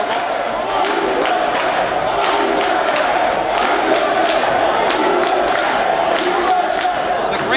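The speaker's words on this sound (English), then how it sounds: "The USA chants keep breaking out" Dense, loud arena crowd at a Reality of Wrestling show chanting USA, a continuous roar with rhythmic shouted accents throughout, no pauses.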